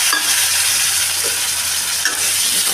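A boiled potato frying in a pan of hot oil, giving a loud, steady sizzle with faint stirring scrapes throughout, while an Assamese fish curry with chuka greens is being made.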